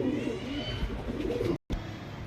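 A male pigeon cooing close by, a continuous low throaty rolling coo that breaks off briefly before resuming.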